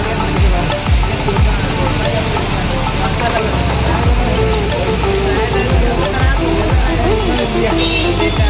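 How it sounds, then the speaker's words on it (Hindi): Heavy rain falling in Bhubaneswar, a loud, steady hiss of downpour with passing traffic rumbling underneath throughout. "देखिपारे ऑलरेडी प्रबल मात्रा रे वर्षा आरंभ हो सारा।"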